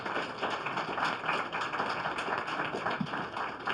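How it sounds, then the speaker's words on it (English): An audience applauding at the 2017 Goldziher Prize award ceremony, sustained dense clapping from a crowd with an even, steady level throughout. "Give him a round of applause."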